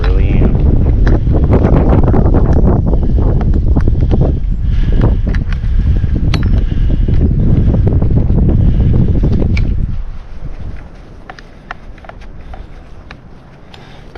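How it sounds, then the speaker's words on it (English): Strong wind roars loud and steady against the microphone high up a tree during a chainsaw felling job, gusting for about ten seconds before easing off into a quieter, lighter rush. "I really didn't expect the wind to pick up like that."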